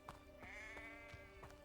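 Several sheep in the Hogwarts Legacy video game bleat in quick succession, with wavering, drawn-out calls that sound close and clear.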